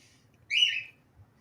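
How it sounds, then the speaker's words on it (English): A single short bird call or brief song phrase, a clear bright chirp lasting about half a second, heard alone over a quiet low background hum. "Bird."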